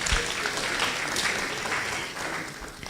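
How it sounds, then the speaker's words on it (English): Sustained applause from a lecture audience, many hands clapping steadily at close range with no break. "Let's give him another round of applause."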